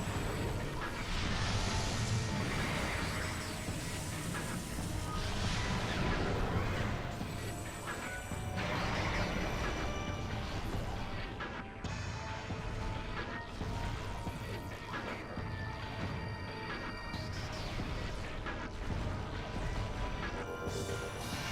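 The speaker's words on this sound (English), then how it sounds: "Super missiles." Super missiles fire repeatedly in Metroid Prime during a boss fight, with loud, crashing blasts and explosive impacts over a dense, continuous wash of game noise and music.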